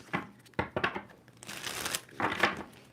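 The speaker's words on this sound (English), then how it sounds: "2 more shuffles for Scorpio." Tarot cards shuffled by hand in quick bursts, crisp riffling and rustling card noise up close, with several separate shuffles and no speech.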